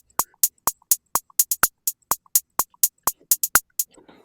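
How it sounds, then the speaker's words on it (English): Two layered hi-hat patterns in a trap beat, crisp closed hats ticking in a bouncy, uneven rhythm with accented hits standing out, about twenty dry clicks over four seconds, close and alone with a faint tail at the end. "I put the first hi-hat just a bouncy pattern, and then the second hi-hat just to bring out the accents here"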